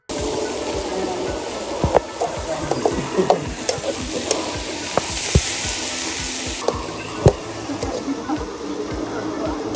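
Food stirred and frying over an open fire at an outdoor picnic, with steady sizzling, scraping and clinking of utensils against the pot, and faint voices in the background.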